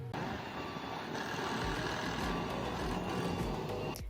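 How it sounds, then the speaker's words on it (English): Construction machinery works beside a hiking trail on the Lycian Way, with a heavy vehicle's engine rumbling and reversing beeps repeating steadily, all heard at a distance and fairly faint. "we also came across this construction, which was not quite the sounds of nature we were hoping for"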